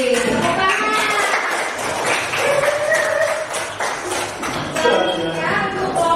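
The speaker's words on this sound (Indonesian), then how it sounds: "Tepuk tangan." A school class breaks into applause, a burst of quick, uneven hand claps mixed with excited voices and shouts in a lively classroom.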